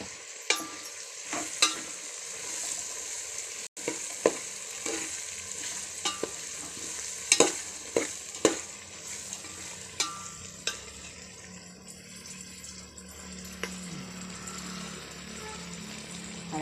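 Ground ginger, garlic, coriander and green chili paste with chili powder frying in a pan, a steady close sizzle broken by sharp, irregular clacks of a spoon stirring, with no talk.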